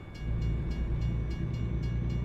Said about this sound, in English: I can hear the train